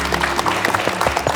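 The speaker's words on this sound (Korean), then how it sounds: "여러분 뜨거운 박수로 맞아주시겠습니까?" Brief burst of studio audience applause on a Korean television talk show as guests are welcomed, dense and close throughout.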